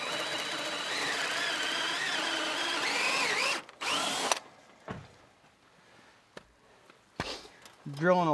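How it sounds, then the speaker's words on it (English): A power drill bores a hole through a wooden brace on a farm fence by a pond dam, whining steadily for about four seconds, then stopping; afterward there are quiet clicks and handling noises, with a brief voice at the end. "drilling a hole to feed that wire through this brace"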